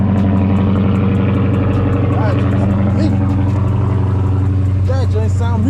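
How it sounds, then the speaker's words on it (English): A Chrysler 300 engine idles steadily after a cold start, a loud, continuous low drone close by with a few faint chirps and voices over it. "y'all about to get 2 cold starts and 1 video."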